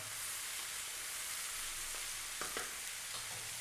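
Lamb chunks and onions fry steadily in a pan for a lamb coconut curry, a continuous broadband sizzle with a few brief clicks and scrapes of stirring near the end.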